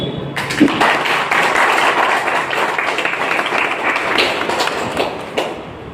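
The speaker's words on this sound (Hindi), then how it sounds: "एक जोरदार ताली सर अपने लिए" Enthusiastic audience applause fills a health program venue, a dense burst of many hands clapping steadily for several seconds, loud and close, with no speech over it.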